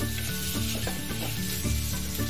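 Cabbage, capsicum and spring onion frying in a pan for a home-made chicken soup, a steady close sizzle running throughout with soft rhythmic stirring pulses and no talking.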